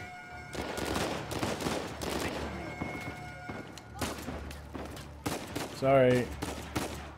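Bursts of gunfire in the video game Uncharted 4, rapid sharp shots in clusters across the scene, mixed with game voices and a brief spoken word, followed by a short musical tone near the end.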